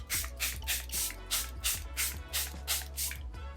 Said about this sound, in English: we're gonna take some of the Charlotte Tilbury Airbrush Flawless Setting Spray